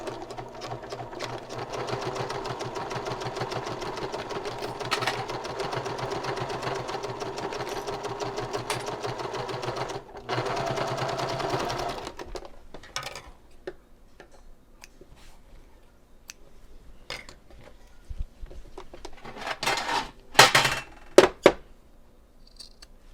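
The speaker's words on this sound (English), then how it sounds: "I'm going to sew right along the edge of the binding." Sewing machine running a lengthened stitch along the edge of fabric binding on a lining slip pocket for a clutch bag, a steady close mechanical whir for about twelve seconds, then stopping, followed by scattered clicks and handling noises.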